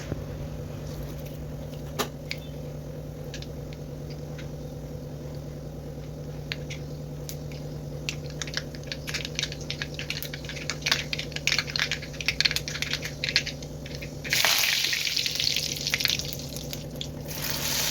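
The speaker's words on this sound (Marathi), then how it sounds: "हे इथे टाकले जिरे मोहरी आणि त्यानंतर कढीपत्ता" Cumin, mustard seeds and curry leaves spluttering in hot oil: a steady, close crackle of scattered pops over a low hum, swelling into a louder, denser sizzling hiss toward the end.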